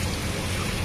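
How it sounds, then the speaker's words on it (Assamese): Water poured into a pan of fried spices for an egg curry, a dense, loud rushing hiss and bubbling throughout the short moment, close and continuous. "এইখিনি মোৰ মছলাটো ভাজা হৈ গৈছে, এতিয়া মই পানীখিনি দি দিম।"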